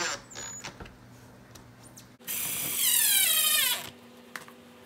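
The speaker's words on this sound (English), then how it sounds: "Now I've got a level on here, so I can hold this level and anchor this side. And I'm using some pretty long screws." A power drill drives long screws through PVC board to anchor plates, with a short whir and squeak at first, then a loud, close whining burst of about two seconds as the screw bites and spins down before stopping.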